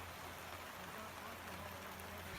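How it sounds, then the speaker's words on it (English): Steady rain falls outdoors around a greenhouse, a dense even hiss with no clear individual drops, moderately near and constant throughout, with no talking. "I'm walking around here in the rain"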